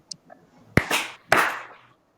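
Two sharp hand claps ring out in quick succession, close and distinct, each with a short room echo after a faint voice at the start.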